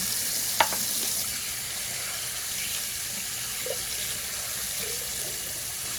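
Running water pours steadily over the top part of an Epson EcoTank 15000 printer as it is rinsed, a continuous hissing spray close by, with a small knock near the start and no talk.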